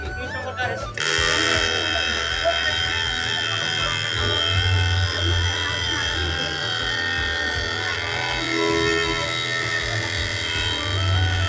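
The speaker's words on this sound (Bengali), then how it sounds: "এটা হচ্ছে আমার মিনি জেনারেটর 12 চলছে" A homemade 12-volt mini generator runs with a steady electric buzz and hum, starting abruptly after the first second and holding close and even to the end, with voices nearby.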